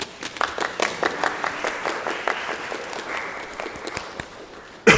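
Audience applause after the first episode of a series screened at a showcase, a steady patter of many hands clapping close by for several seconds, slowly thinning out toward the end.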